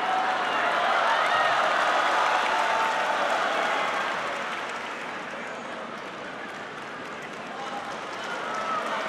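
Crowd applause and cheering fill a large arena at a 2014 China Open table tennis match between Ma Long and Xu Xin, a steady broad wash of clapping that swells and eases slightly, with commentary voices underneath.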